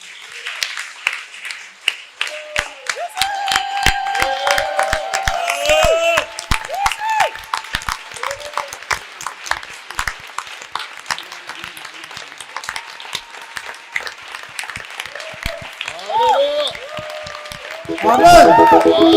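A church congregation claps and cheers during a French-language Sunday service, sharp claps scattered at first, then building into steady applause, with a loud swell of cheering near the end while a voice speaks over it.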